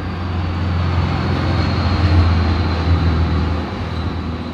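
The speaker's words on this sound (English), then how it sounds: "I don't know why your truck needs to be so loud" A loud truck engine runs at a steady idle near an Airstream trailer renovation, a deep continuous rumble that swells slightly in the middle and eases off toward the end.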